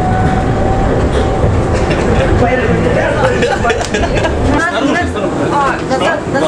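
Tram ride interior with a harsh, rattling car: continuous loud rumble and wheel clatter fill the space throughout, with people talking over the noise.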